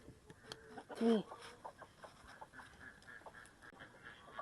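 A hen gives a short burst of clucking, fairly close, amid quiet scratching and faint background noise.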